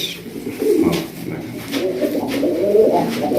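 A male Lahori pigeon cooing up close, a few soft, low, rolling coos in a row, loud and clear over faint background noise.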